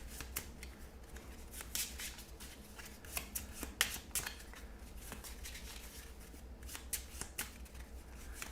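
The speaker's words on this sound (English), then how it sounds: "We'll shuffle these up." Encounter cards for a board game are shuffled by hand at close range, giving a string of soft riffling and sharp flicking bursts in an otherwise quiet room.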